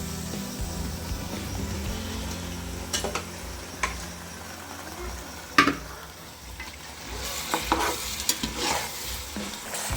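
Chicken pieces frying in oil with salt, chilli powder and ginger-garlic paste for Ambur-style biryani, a steady close sizzle with occasional stirring clatters and scrapes throughout.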